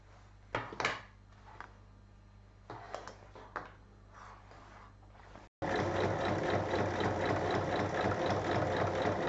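A sewing machine stitches a lined fabric bag. Short bursts of stitching and handling noises come first, then a steady, louder run of rapid machine stitching.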